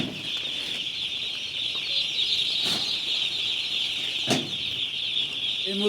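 Broiler chickens unloaded from a delivery vehicle into a poultry shed make dense continuous clucking and chirping, with a couple of sharp bursts of wing flapping, near and loud, with no talking.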